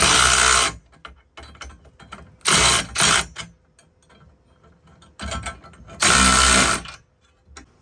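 A ratchet with a 9/16 socket tightens bolts on a Sprinter van's aluminum rear door tire rack, giving several loud bursts of rapid clicking separated by quieter pauses and handling noise.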